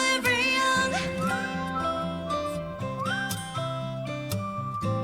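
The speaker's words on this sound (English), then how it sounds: "the whistle is nice" A clear whistled melody in a pop song sits prominently over the backing track and continues throughout.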